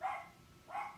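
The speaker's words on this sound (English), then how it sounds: "Whenever the mail carrier comes to the doors, my doggies bark." Two dogs, a tiny puppy and a big Weimaraner mix, bark at a mail carrier; two sharp, fairly close barks come about three-quarters of a second apart.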